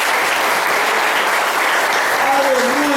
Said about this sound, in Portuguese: aplauda Jesus bem forte essa noite